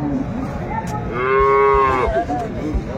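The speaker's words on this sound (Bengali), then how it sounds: "বেশ সুন্দর গাভী বাছুর আমরা দেখছিলাম এখানে" A dairy cow and calf moo at a cattle market in Ambari, Dinajpur, with one long, loud, tonal moo rising over a steady murmur of market crowd noise.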